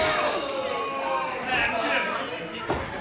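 A wrestling event crowd keeps up a continuous broad murmur of chatter, with someone talking over it and a brief louder burst near the end.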